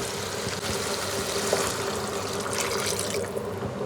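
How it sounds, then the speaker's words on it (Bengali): Water pours steadily into a pan of sautéed fish curry base, a continuous splashing wash that sounds close and fairly loud throughout. "মাছের ঝোলে একদম সব কষানো হয়ে গেছে এবার শুধু জল দেওয়া বাকি রয়েছে"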